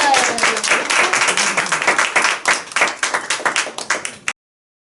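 A small group claps to close a student presentation: quick, fairly loud individual claps with a crisp close-up sound that thin into separate slaps before stopping abruptly.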